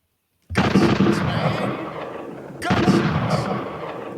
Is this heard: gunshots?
yes